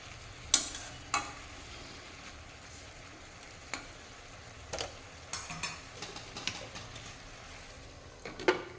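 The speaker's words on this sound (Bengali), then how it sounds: "এখন আমি নিচেরটা ওপরে, ওপরটা নিচে করে দেবো" Cabbage and mixed vegetables stirred in a pan over a low flame: a faint steady sizzle broken by scattered scraping and clinking strokes of a spatula, a few sharper knocks early on, no talking.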